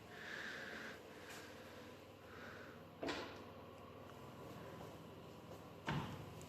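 A door is shut in a loud room with a running washing machine: two sharp thuds about three seconds apart stand out over a steady mechanical hum.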